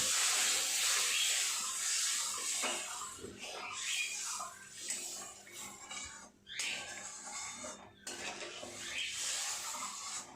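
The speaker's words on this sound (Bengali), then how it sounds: "মশলাটা সুন্দর করে তেল ছেড়ে গেছে, এবার আমি জল দিব" Water poured into fish curry spice paste frying in oil in a small kitchen, giving a loud hissing, steaming sizzle that surges and fades in bursts, with clanking of pots in between.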